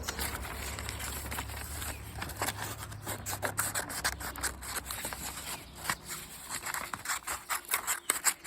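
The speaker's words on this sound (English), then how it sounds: "cut it out to be a picture frame. So I'm going to do that now." Scissors cut out a paper picture frame for a craft, giving a close, irregular run of snipping and rustling paper rubs that grows choppier toward the end, with no talking.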